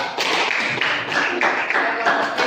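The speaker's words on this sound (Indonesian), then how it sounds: "Aplaus dulu untuk kelompok doa" A classroom group of teachers in Biak Numfor applauds together, a dense burst of close hand clapping that stays steady for a couple of seconds with a few surges in intensity.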